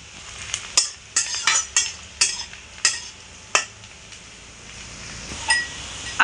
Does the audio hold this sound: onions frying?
yes